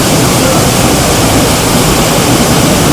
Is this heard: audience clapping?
no